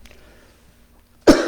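A single sharp cough bursts out near the end after quiet room tone, close and loud, in a hall where people are coughing from dry air.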